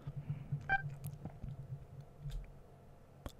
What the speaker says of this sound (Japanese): 足元から何やら電子音が聞こえた。